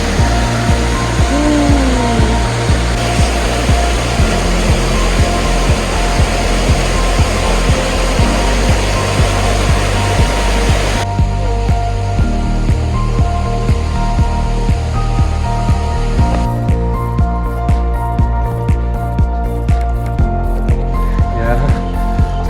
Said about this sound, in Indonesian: Jadi kita akan melewati anak sungai di sini.